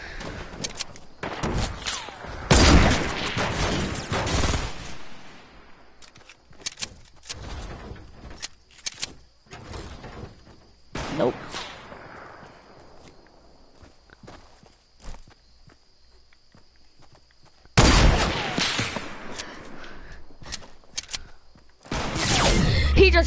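Gunfire in a shooter video game: bursts of sharp shots and impacts that come in loud clusters with long quiet gaps between them, alongside footsteps and clatter.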